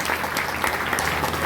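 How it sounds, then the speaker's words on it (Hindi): Audience applause at an RCM business leader's motivational speech, a dense steady clapping from a crowd filling the hall, loud and continuous throughout with no talk. "ताली जोरदार वाली बजा लीजिए"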